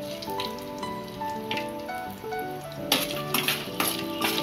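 Dried chillies, cinnamon, cloves, cardamom and bay leaf sauté in a pan for a restaurant-style potato gravy, a soft crackling sizzle mixed with light clinks, growing louder and busier toward the end.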